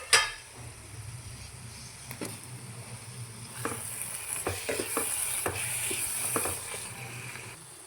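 Drumstick pieces stirred into a frying masala curry in a pan, with soft scraping and clinks over a low sizzle that grows busier in the second half. The sound is fairly faint, with a sharp tap at the start.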